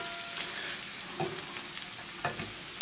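Mushroom caps fry in a pan, a soft steady sizzle with faint crackles and a few small clicks and taps as they are turned over, fairly quiet and close with no talking.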